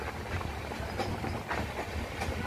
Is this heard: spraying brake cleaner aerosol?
no